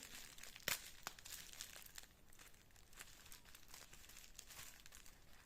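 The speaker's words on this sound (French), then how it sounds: "Et alors là, on a du papier bulle." Bubble wrap from a collectible toy package is handled and crinkled close by, giving continuous crackling rustles with a few sharper crinkles, alone without talk.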